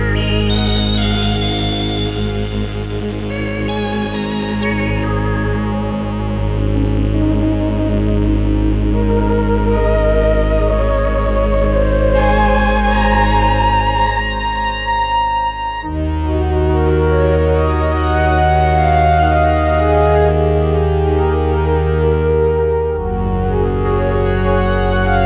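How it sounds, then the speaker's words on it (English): Polymoog synthesizer under restoration playing sustained chords through its filter with a light reverb added, loud and continuous with shifting harmonic layers and brief higher swells. "So put just a little reverb on that filter."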